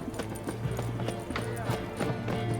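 Roach the horse's hooves clip-clop in The Witcher 3, a steady trotting rhythm of hoof strikes under game music and voices, with a faint whinny.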